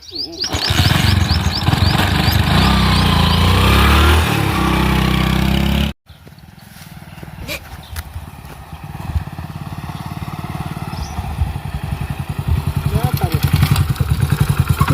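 A motorcycle engine runs loudly nearby, then cuts out briefly before idling and revving again with a rhythmic thumping, voices talking around it.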